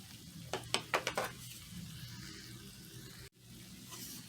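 Parmesan cheese stirred into a simmering Cajun shrimp pasta sauce, with a quick burst of spoon-scraping strokes against the pan early on, then a soft steady bubbling sizzle underneath and a brief dropout near the end.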